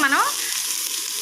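Ginger garlic paste fries in a pan for a chicken pulao, giving a steady, close hiss of sizzling oil that opens with a brief squealing whine, and no one speaks.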